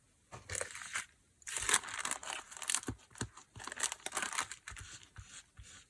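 Transfer paper slowly peeled off fabric, producing close crackling, crinkling tearing bursts in several drawn-out pulls with brief pauses between.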